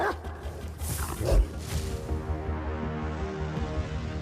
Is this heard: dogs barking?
yes